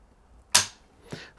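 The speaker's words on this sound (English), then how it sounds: "I'm just gonna pull back on this trigger while keeping the gun in place" A Palmetto State Armory ARV 9mm trigger is pulled against a trigger-pull gauge, giving one sharp close click followed by a softer second click a moment later.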